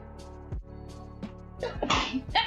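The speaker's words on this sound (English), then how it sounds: "I'm gonna sneeze." A single close sneeze bursts out near the end, preceded by a few sharp breathy intakes.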